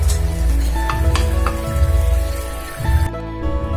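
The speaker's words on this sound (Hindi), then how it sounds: "हमारा तड़का तैयार हो गया है, अब हम इसको ढोकले में डाल देंगे।" Steady hiss of frying oil sizzling loudly as hot tempering is poured onto Gujarati khaman dhokla, with a brief dip near the end and no voices.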